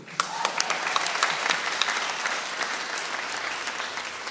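Enthusiastic audience applause at a concert event, dense crackling clapping that holds steady for the full stretch, close and fairly loud with no voices over it.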